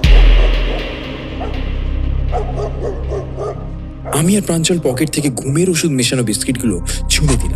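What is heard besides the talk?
dogs barking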